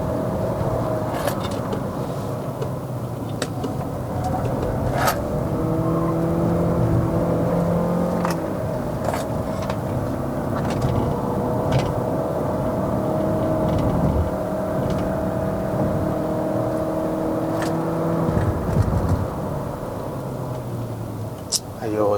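Cabin-side engine and drivetrain noise from a 2023 Chery Omoda 5 1.5T with a CVT under full-throttle acceleration on a mountain road to Genting in Malaysia, a steady droning roar with rising whine tones, heard continuously under occasional speech.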